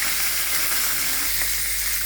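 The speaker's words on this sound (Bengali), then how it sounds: "মাথাগুলো ভেজে নিচ্ছি" Rohu fish heads fry in oil with a loud, continuous crackling sizzle that holds steady and close throughout.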